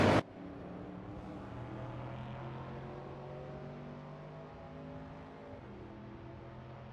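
A 1970 Simca Rally 3 race car engine in a racing video game hums at a steady, sustained pitch, with a brief sharp burst at the very start, then a constant moderate drone.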